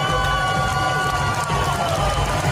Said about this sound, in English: a big round of applause for our spiritual on captain